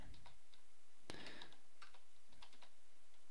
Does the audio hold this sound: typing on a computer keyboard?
yes